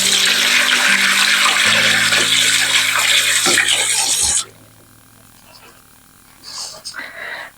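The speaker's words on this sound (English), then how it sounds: "I'm quickly going to wash my hands so it doesn't stain too bad." Tap water runs hard into a sink as hands are washed, a loud, close, steady rush that stops abruptly partway through, followed by faint handling sounds and a brief softer trickle.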